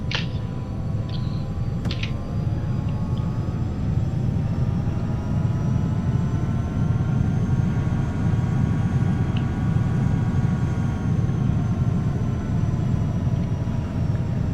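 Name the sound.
Challenger 300 jet taking off, from the video game X-Plane 11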